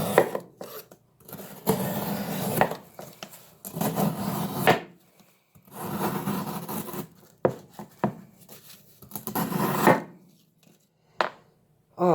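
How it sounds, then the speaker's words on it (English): A CH Knives CH3531 folding knife with G10 handles slices through cardboard in several long, rasping cuts separated by short pauses, close and fairly loud. "We're gonna cut some more cardboard just cause it's so gosh dang fun."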